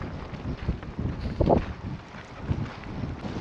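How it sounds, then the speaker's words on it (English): Strong gusting wind buffets the microphone at San Luis Reservoir, a continuous loud rumbling roar with surges around the middle, mixed with faint water movement and no talking. "Super windy."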